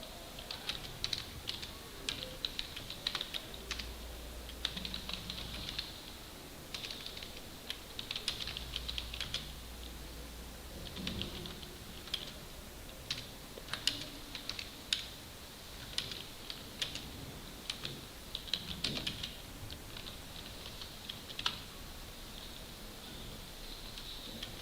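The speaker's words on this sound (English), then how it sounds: "All you need to do is to begin pushing your buttons on your keyboard" Typing on a computer keyboard: a continuous run of close, crisp key clicks in uneven bursts with brief pauses, heard alone without speech.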